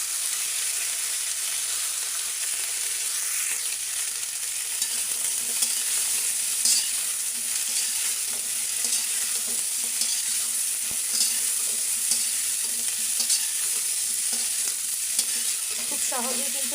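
Cauliflower florets and potatoes frying in oil with turmeric, giving a loud, steady, close sizzle with faint stirring scrapes throughout.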